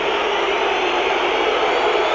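A football stadium crowd at Leeds v Swindon Town in 1989-90 reacts to a player being sent off, a broad, steady roar of massed voices that stays loud and even throughout, with no commentary over it.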